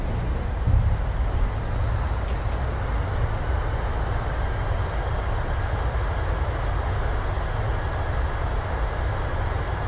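Jet thrust reversers roar during a landing at Rankin Inlet in Microsoft Flight Simulator, a loud, steady, low rumbling rush that holds for about ten seconds with no talking.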